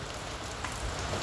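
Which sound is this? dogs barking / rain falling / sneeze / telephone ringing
rain falling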